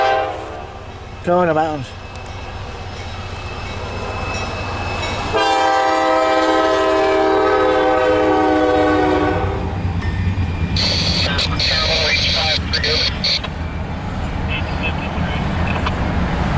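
Loud, sustained chords from a Norfolk Southern 21V intermodal freight train's horn, with long blasts and a later shorter series, over the rumble of the passing train, while people talk nearby.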